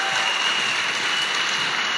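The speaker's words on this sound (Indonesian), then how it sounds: "Tepuk tangan untuk beliau." An audience at a Tiansi network marketing gathering gives a steady wash of applause, dense and unbroken from start to finish, with no single claps standing out.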